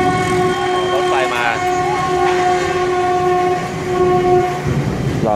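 A train passes close by in Phu Ly, Ha Nam, Vietnam, sounding a loud, steady horn over a continuous heavy rail rumble.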